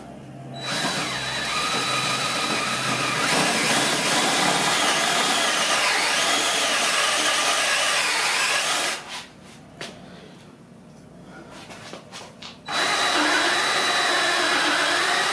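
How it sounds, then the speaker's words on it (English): Power drill with a long bit boring a hole for a DIY floating shelf, a loud steady whine for about nine seconds, a pause of a few seconds with light rustling, then the drill resumes. "see if the drill pushes it"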